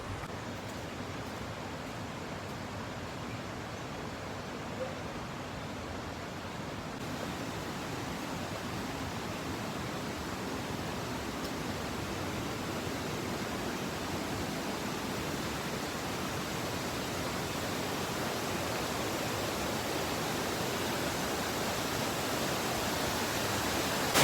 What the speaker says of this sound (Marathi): हा छोटू धबधबा आहे